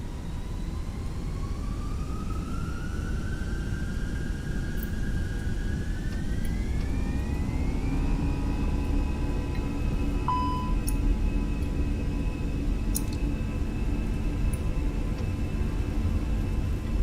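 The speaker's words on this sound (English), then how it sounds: "Iberia Express 3923, taking off runway 6 right on the EPAM 3 Romeo departure." Fenix A320 jet accelerating down the runway on its takeoff roll in Microsoft Flight Simulator, a steady loud engine roar with a whine that climbs in pitch and then holds, continuous throughout with no talking.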